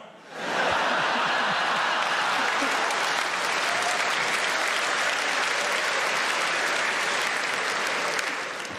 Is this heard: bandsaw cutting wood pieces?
no